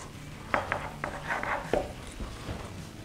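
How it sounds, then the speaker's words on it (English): A sharp knife trims thick fat from a raw beef brisket, with a few quick taps and short scraping slices against a board, close and fairly quiet, no talk. "These knives just go straight through like butter."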